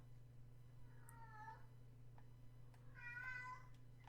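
A house cat meows twice, a short drawn-out call followed by a longer, louder one, close by over a faint steady electrical hum, with no talking.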